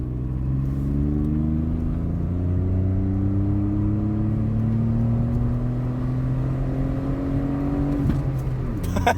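A Renault Clio IV 0.9 TCe with an aftermarket exhaust revs close by, its engine note climbing steadily and loudly over several seconds before a sharp pop near the end.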